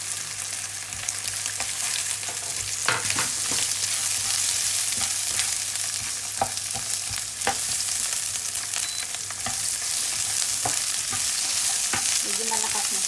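Onions fry for char kway teow in a hot pan with a loud, continuous sizzling hiss and scattered stirring clicks, with no talking.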